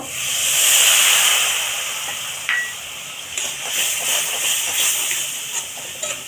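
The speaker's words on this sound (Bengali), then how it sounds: "মশলাটা কষে নিয়েছি তো একটু জল দেব" Water poured into hot fried masala for a Bengali crab curry, a loud steady hiss and sizzle that swells then settles into continuous crackling, close up, with no talk.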